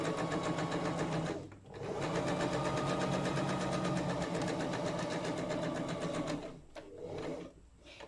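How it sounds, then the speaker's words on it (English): A computerised or manual sewing machine stitching a straight seam runs with a loud, steady mechanical whir that stops briefly twice and then resumes, close up and with no talking. "So now lower your presser foot, lower your needle, and sew that straight line."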